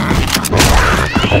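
A pipe bomb goes off in Left 4 Dead 2, a short, loud, thudding blast with crashing debris in a busy co-op fight.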